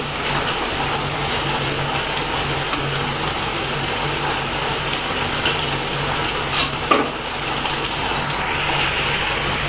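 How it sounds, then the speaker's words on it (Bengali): Yardlong beans frying in a pan, a loud, dense, continuous hiss with a couple of brief clicks near the end. "এখানে হয়েছে লইব্বা ভাজি, বরবটি ভাজি করতেছি।"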